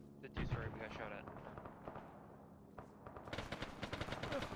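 Video game AI enemy emptying a full magazine in rapid automatic gunfire, a burst of sharp cracks that grows dense toward the end, fairly close amid a game soundscape.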